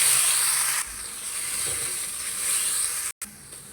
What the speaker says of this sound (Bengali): এখন শাক বাগার দিয়ে দেবো।